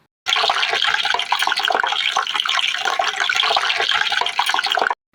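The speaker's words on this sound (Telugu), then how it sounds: "ఇప్పుడు పొయ్యి మీద గిన్నె పెట్టి దానిలో 1/2 లీటర్ కొబ్బరి నూనెను పోసుకోవాలి" Half a litre of coconut oil pours into a pot on the stove for homemade hair oil, a close, steady splashing gush lasting about five seconds that starts and stops abruptly.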